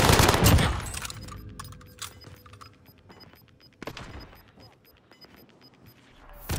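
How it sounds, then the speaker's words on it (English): Gunfire in the video game Call of Duty: Warzone on Rebirth Island, several sharp bursts and single shots scattered over a few seconds, with loud crashes at the start and end and quieter gaps between. "Receiving hostile fire."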